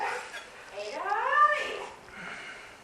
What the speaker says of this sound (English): Some barking from Shadow.